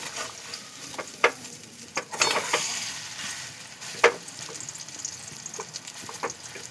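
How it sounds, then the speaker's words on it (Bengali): Kakrol (spiny gourd) frying in a pan, turned over now and then: a steady soft sizzle with a few sharp scraping clicks from a spatula at intervals, close by and moderately quiet, with no voices. "এপিট উপিট করে ভালো করে ভেজে নেব"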